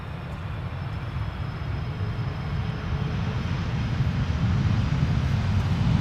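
An airliner on crosswind approach at Amsterdam Schiphol Airport rumbles low and steady, swelling gradually louder as it nears, with a faint high engine whine above.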